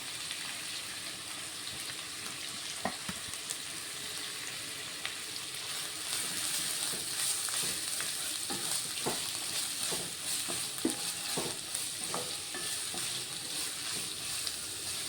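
Finely chopped cabbage fries in a pan for egg noodles, a steady close sizzle and hiss broken by scattered clicks and scrapes of stirring, with no voices.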